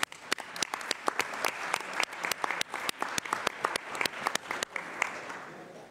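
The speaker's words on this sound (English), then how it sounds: "Can we give them another applause," Scattered applause from a modest conference audience honouring speakers at a medical meeting session, with individual sharp claps standing out distinctly in an uneven rhythm, thinning toward the end of the burst.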